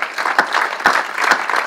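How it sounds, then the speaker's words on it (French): A church congregation applauds, with dense close clapping from many hands and a few sharper accents, and no speech over it. "Moi j'aimerais qu'on applaudisse toutes les personnes qui nous ont bénis ce matin."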